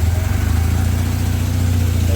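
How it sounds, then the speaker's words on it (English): Engine of a 1978 Kawasaki KZ400 motorcycle running in a steady low idle, close and continuous with no clear start. "I charged the battery so that the bike should be able to fire up"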